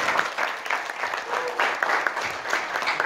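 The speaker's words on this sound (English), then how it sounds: "let's give all of you applause for this excellent" Audience applause fills a forum room in Bosnia, steady dense clapping that swells and holds for about three seconds with no talk over it.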